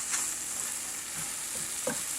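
Beef frying in a pan, a steady close sizzle with a faint spatter and a couple of small scrapes or stirs, with no one talking.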